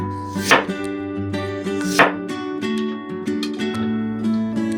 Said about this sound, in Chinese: 取生姜30克切片，这一步是为了给猪肉去腥。